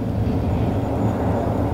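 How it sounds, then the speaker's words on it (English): A steady low rumble of road traffic on a dam wall drones on throughout, continuous and fairly loud, with no voices. "sorry about the road noise behind us"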